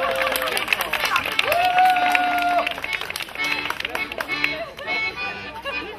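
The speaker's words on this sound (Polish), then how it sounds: "Brawa dla nich." Hands clap steadily through a crowd at a retro Polish dance party, blending with a sung melody and voices talking and cheering.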